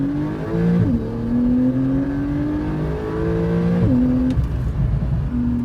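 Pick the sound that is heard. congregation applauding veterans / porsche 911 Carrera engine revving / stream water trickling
porsche 911 Carrera engine revving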